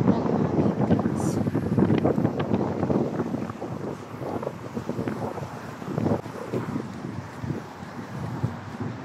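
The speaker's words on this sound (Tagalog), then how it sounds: "Ang sarap ng hangin, guys." Wind blowing outdoors near a house, a steady rumbling gust buffeting the microphone, strongest at first and easing off with fluctuating bursts.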